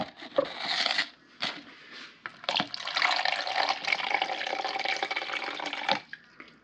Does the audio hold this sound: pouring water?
yes